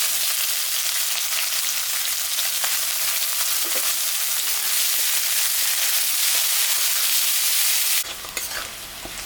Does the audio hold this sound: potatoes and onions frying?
yes